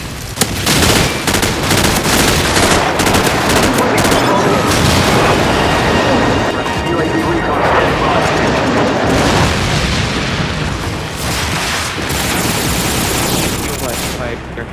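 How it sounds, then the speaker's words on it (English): Loud, dense explosions and rapid gunfire from a friendly airstrike in a video game team deathmatch on the Overgrown map, rumbling continuously with voices talking underneath. "Friendly airstrike on the way."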